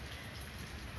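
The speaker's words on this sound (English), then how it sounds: "Like, it's raining now. I absolutely love sitting out in the rain because it's nice and cool. I like the sound of the rain." Steady rain falls outdoors in a dense, even hiss of drops, soft and continuous with no voices.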